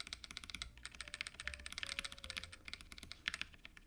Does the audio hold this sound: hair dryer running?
no